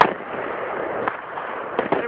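Fireworks popping at a display, with a sharp burst at the start and a few more distinct pops later among a continuous crackling rumble, while people talk throughout.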